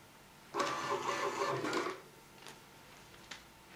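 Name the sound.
receipt printer printing configuration settings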